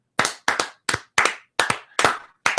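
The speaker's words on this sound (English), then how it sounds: "we should do it just off unison, so it sounds like a constant clap" Several people clap hands together slightly out of unison, making seven quick, sharp bursts of claps close by, evenly spaced, with silence between each burst.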